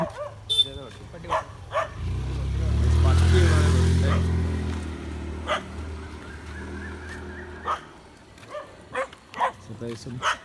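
A dog barks repeatedly in short bursts, fairly close, while a vehicle rumbles past in the middle and people talk faintly.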